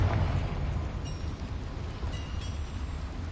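A Confringo blasting spell explodes in the video game Hogwarts Legacy, a deep rumbling boom at the start that settles into a sustained low roar with faint crackles, and no voices over it.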